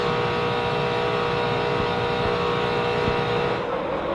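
Race cars roaring around Talladega Superspeedway during the 2004 Aaron's 499 NASCAR race, a loud, dense, continuous engine drone from a tightly packed field at high speed, steady throughout with no clear pass-by.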